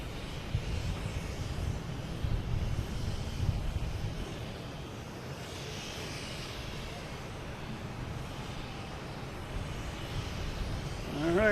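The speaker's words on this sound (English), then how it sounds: "We have Lufthansa A380 coming in as well." A Lufthansa Airbus A380 on approach to Boston Logan Airport drones as a broad, distant engine roar, swelling and easing amid wind buffeting on the microphone.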